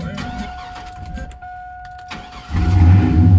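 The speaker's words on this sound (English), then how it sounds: "let's crank up the old Chevrolet, if it'll crank" An old Chevrolet being cranked: a quiet whine and faint clicks give way to the engine catching and rumbling into a loud, steady idle near the end, with a voice briefly heard.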